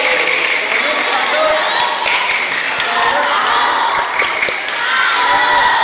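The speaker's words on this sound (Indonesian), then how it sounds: "Oke, tepuk tangan untuk mereka." A crowd of children at a Catholic youth camp in Palasari, Bali, clapping and cheering loudly together, with shouts and whoops woven through a steady, dense wall of noise, and some voices heard throughout.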